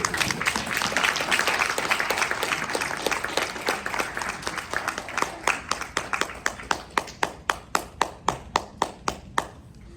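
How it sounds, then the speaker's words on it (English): Loud audience applause, dense and sustained at first, then thinning into fewer distinct claps that slow toward the end. "Clap him up on stage."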